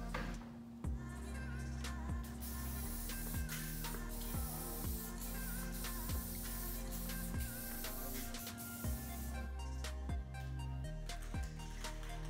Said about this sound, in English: the spray paint's gonna go everywhere the water's not